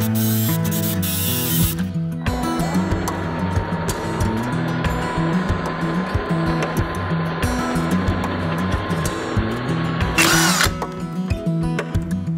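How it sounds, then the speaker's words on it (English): Power drill boring holes into wooden farmhouse table aprons, a steady loud whirring drone with a brief higher burst near the end, no talking. "Once I had all the holes drilled on the aprons"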